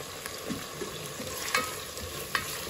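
Onions and tomatoes fry in a pan with salt for vegetable dum biryani, a continuous close sizzle punctuated by light scraping strokes of a spoon stirring.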